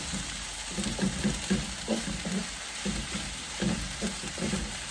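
Onions frying in a pan, giving a continuous bright sizzle with repeated soft scraping strokes of stirring in an uneven rhythm, heard up close with no one speaking.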